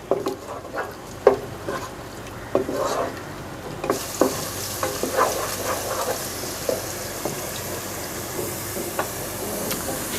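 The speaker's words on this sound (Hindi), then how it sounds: "जी, तो प्याज को मैं कर रही थी फ्राई, इसको ज़्यादा फ्राई नहीं करना।" Onions fry in hot oil in a pot while being stirred, a loud continuous sizzle broken by repeated scraping strokes of the spoon, with the hiss brightening partway through.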